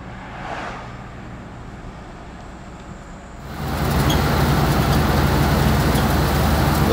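A 1960 Metro van with all-wheel drive and a Hemi engine drives on the road. A low hum swells midway into a loud, steady roar of engine and road noise.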